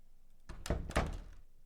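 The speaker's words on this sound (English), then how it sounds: "Damn, door's locked." A locked door in the Nancy Drew game Ghost of Thornton Hall gives a couple of dull wooden thunks as it is tried, close and fairly loud, with a short rattling tail and no talk.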